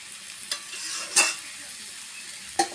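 Kalo kochu (black taro) is stirred and fried dry in a pan in a village kitchen, a soft continuous sizzle broken by a few sharp scrapes of the spoon against the pan.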